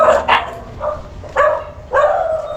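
Dogs bark in a handful of sharp, close yaps spaced across a couple of seconds, some quick doubled barks, with a quiet background between them.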